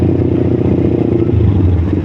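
A Kawasaki Ninja 250FI motorcycle with a racing exhaust idles with a steady, dense low rumble, close and loud, and a faint clatter rides over it for the whole stretch, with no one talking.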